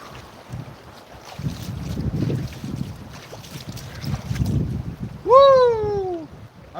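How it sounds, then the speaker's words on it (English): Wind gusts across a frosty, frozen creek in a Georgia park, a steady rushing broadband noise with low rumbling buffets, ending in a brief loud tonal whoop. "Maybe it's getting windier."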